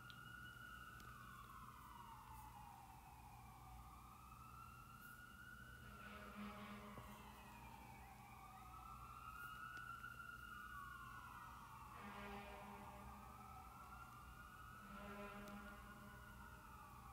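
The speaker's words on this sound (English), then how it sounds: "let the ambulance to pass" An ambulance siren passes outside during a lecture, its wailing tone rising and falling steadily through the whole stretch with a faint background hum.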